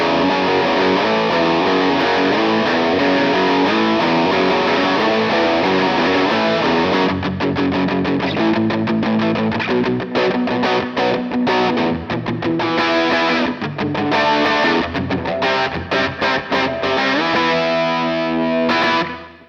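Heavily distorted riffs and chords on a left-handed 2019 Gibson SG Standard electric guitar with an ebony fingerboard: loud, gritty and dense, with rapid choppy strums and bursts in the second half, played alone.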